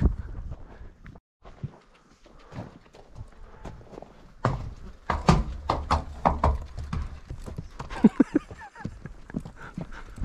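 Hooves of a horse clip-clopping at a walk on a ranch, an uneven series of close, sharp knocks that grows busier and louder in the second half.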